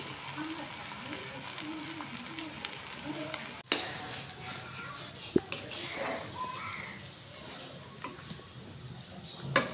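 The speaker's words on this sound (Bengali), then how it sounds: "কচুটা ভালো করে নাড়াচাড়া করতেছে যাতে নিচে লাইগা না যায়।" Taro with hilsa fish steadily sizzling in a hot pan, stirred so it does not stick, with soft scraping and a couple of sharp utensil knocks over a continuous frying hiss.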